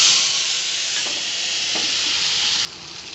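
Bay leaf, dried chilli and five-spice dropped into hot oil for tempering, giving a loud, close, continuous hissing sizzle that drops suddenly in level near the end, with no talking.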